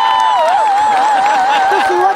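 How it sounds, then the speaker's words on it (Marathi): Cheering crowd at a live Marathi comedy stage show: a dense, loud wash of audience noise with a sustained wavering tone running through it, steady for the whole stretch. "एकदा माझ्यासाठी जोरदार टाळ्या वाजवा"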